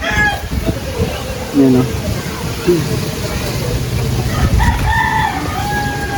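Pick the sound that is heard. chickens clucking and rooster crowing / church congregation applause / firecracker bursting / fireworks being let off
chickens clucking and rooster crowing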